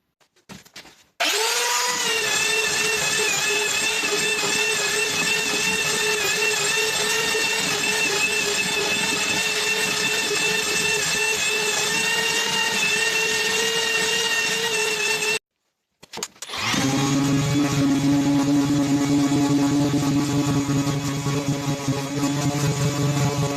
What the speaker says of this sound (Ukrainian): І так, відшліфував я дві частини.